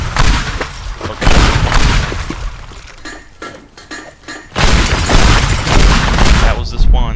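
Pipe bombs exploding in the destruction game Teardown: loud, dense bursts of blasts and clattering, crashing debris, with a brief quieter stretch between heavy waves of destruction.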